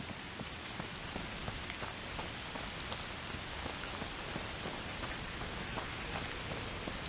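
Steady rain falls in the game A Plague Tale Requiem, making a dense, even hiss of drops hitting surfaces. It continues without a break and is heard alone, with no speech.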